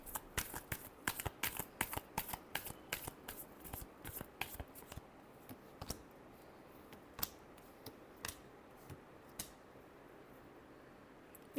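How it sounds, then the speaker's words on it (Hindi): Tarot cards shuffled in quick riffling bursts, dense and rapid for the first few seconds, then thinning to sparse, isolated flicks and taps, close and fairly quiet with no talking. "Last shuffle."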